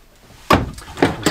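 A cupboard door in the bathroom of a 2022 Grand Design Reflection 150 Series 226RK travel trailer opens and shuts, giving three close wooden knocks and thumps at a steady pace in a quiet room.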